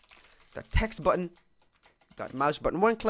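Typing on a computer keyboard while writing script code in Roblox Studio: soft, rapid key clicks in a short pause between stretches of someone talking.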